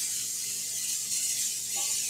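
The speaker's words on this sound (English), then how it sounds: "I'm going to spray your bread loaf pan." Cooking spray hisses from a can onto a bread loaf pan in a kitchen, one short continuous spray lasting about two seconds, close and moderately loud.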